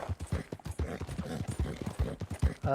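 Silver Dapple Pinto Missouri Fox Trotter hooves in a video game, a steady clip-clop of rapid, evenly spaced hoofbeats close up, with no voices.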